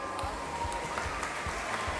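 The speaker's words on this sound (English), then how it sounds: "let's give our amazing lifeguards a huge round of applause for all of their work this weekend" An indoor crowd at a regional swimming championship claps steadily for the lifeguards, a dense and even patter of many hands that carries on throughout at moderate loudness.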